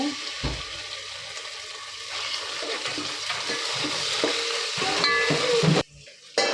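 Loud, continuous sizzling as ginger-garlic paste fries in a hot pan for a chicken dish, building steadily before cutting off abruptly near the end.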